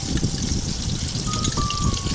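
Yogurt poured into a pan over mustard paste while cooking Bengali doi-sorshe katla fish curry, a continuous close wet trickling and dribbling for a couple of seconds, with no voices over it.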